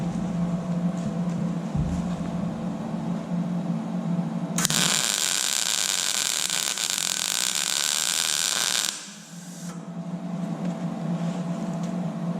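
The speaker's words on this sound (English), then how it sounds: "Now I'm going to do is come in here with the MIG, start in the outside of the hole, to work my way in." MIG welder closing a small hole in a C1 Corvette frame: a steady, loud crackling hiss lasting about four seconds, set against a constant low shop hum before and after.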